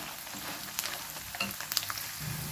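Cumin and coriander seeds frying in a pan for a garlic chutney, a steady close sizzle with a few brief crackles and stirring scrapes, no talking.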